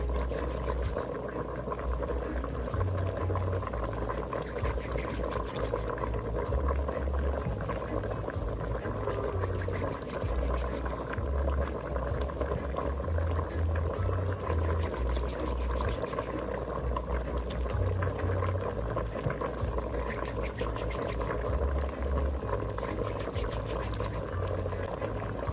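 Jamaican crab curry in coconut milk bubbles steadily in a pot as it reduces to gravy, a continuous simmering burble with a low pulsing undertone throughout.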